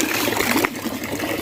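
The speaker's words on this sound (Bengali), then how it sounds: "2 জায়গায় লিকেজ রয়েছে, এইখানটাতে আর ওই পাশে ফোটা ফোটা জল বেরোচ্ছে" Water trickling and dribbling from leaks in a homemade rooftop water park, a steady close liquid patter that continues alone for a moment.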